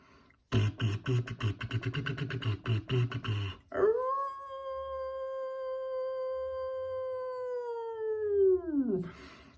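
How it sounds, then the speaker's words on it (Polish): A toy wolf sounds off with a rapid buzzing rattle, then lets out one long, sustained electronic howl that bends downward at the end, close and fairly loud. "Dziękuję Tobie, Wilku, za Twoje odgłosy"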